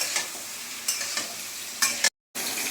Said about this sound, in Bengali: বেগুনগুলোকে কি করব, হালকা করে একটু লাল লাল করে ভেজে নেবো